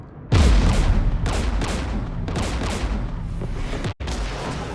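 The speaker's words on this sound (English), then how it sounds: "We're taking fire." Heavy gunfire from Mass Effect 3 combat against Geth forces: a loud, dense barrage of shots and booms that persists throughout, with one brief dropout near the end.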